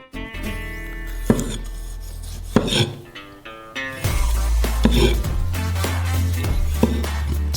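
A knife chopping tomato finely on a cutting board, with sharp close knocks and clatter over a low hum, set against steady background music.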